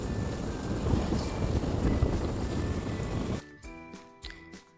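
Cold winter wind blows steadily and fairly loudly over an outdoor road near a crab market, buffeting the microphone for about three seconds. It then drops away abruptly, leaving quieter background sound.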